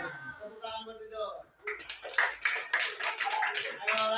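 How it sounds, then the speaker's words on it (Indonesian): Classroom of students clapping for a classmate, a burst of dense, fairly close applause that starts abruptly after a teacher's brief spoken remark and continues steadily to the end. "Tepuk tangan buat Rizal."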